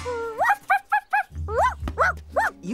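Dogs bark in a cartoon scene, a close, loud string of short yips and barks, some rising and whimpering, coming one after another in a quick irregular rhythm.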